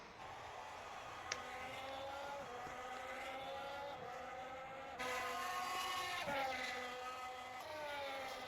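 Carlos Sainz's Ferrari Formula 1 car at speed in 2023 Grand Prix qualifying: a steady, fairly faint engine whine whose pitch climbs and drops back at several gear shifts.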